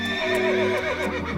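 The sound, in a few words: horse neighing in a storybook narration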